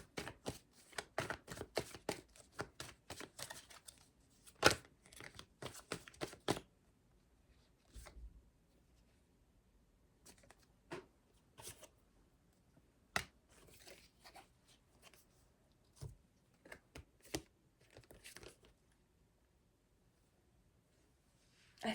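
Tarot cards are shuffled by hand in quick crisp bursts of riffling and slapping, close and fairly faint, with pauses and scattered softer card handling after the first few seconds.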